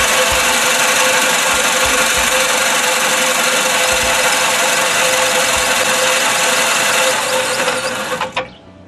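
A 1960 Gravely LI walk-behind tractor engine runs loud and steady after sitting unused for 20 years, with a rough knocking beat and dense mechanical clatter, then cuts off abruptly near the end.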